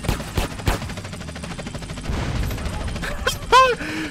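Rapid video-game gunfire in GTA, with repeated bursts of shots over a busy game soundscape, ending in a boom and sweeping electronic tones.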